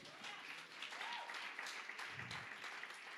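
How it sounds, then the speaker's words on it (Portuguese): A church congregation at a Portuguese-language celebration service applauds together, a steady wash of clapping filling the whole stretch, with a few voices and a low murmur mixed in. "Então dê um aplauso a Jesus."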